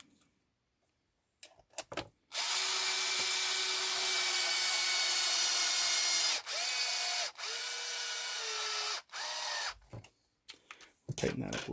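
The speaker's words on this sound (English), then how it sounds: "First things, we're just going to get some of the other screws in." A power driver sets screws into a Traxxas E-Revo 2.0 VXL RC car, giving several sustained whirring bursts of a few seconds each with short pauses between them.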